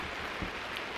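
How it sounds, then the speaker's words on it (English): Rain falls steadily outdoors in wind, a dense, even hiss of drops with broad rushing noise and no voices. "the wind started blowing on me right when I hit record, and it's raining"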